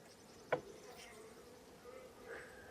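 Honey bees hum at an open hive during a brood nest inspection, a faint steady drone with a short sharp knock early on and quiet rises later.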